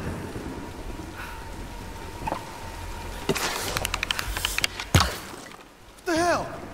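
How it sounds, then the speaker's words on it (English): Steady rain hisses through a stormy scene in the Tomb Raider video game, with scattered crackling bursts and a sharp thunder-like crack, followed near the end by a brief wavering voice-like sound over the downpour. "Nah, let's wait out the storm."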